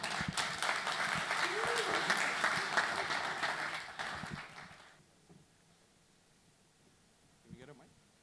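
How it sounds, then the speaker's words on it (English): Loud audience applause at a tech summit as a speaker takes the stage, a dense clapping wash that fades out after about five seconds into near quiet with a faint voice. "Big round of applause, everyone."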